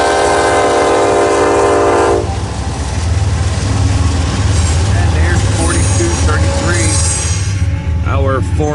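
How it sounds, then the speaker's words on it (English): A train horn blares steadily, then gives way to the heavy rumble and rhythmic clatter of a long eastbound freight stack train rolling past close by in Fremont, Nebraska. "Train's heading east."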